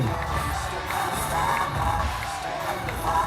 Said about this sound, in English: From Ogun State, don't stop clapping.